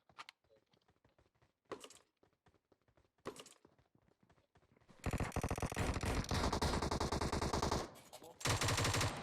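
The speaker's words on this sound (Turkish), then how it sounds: "Lan kim sıkıyor? Adama niye sıkıyor Nur?" Gunfire in the video game PUBG on the Sanhok map at the Paradise Resort: scattered soft thuds and steps at first, then loud sustained automatic fire filling the second half, with a short break before a final burst.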